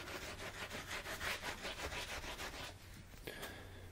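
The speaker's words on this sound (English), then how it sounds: "I'm just going to give my palette a little rub like that." An acrylic paint palette being rubbed clean, giving a steady scratchy scrubbing with repeated back-and-forth strokes up close, easing off near the end with a small knock.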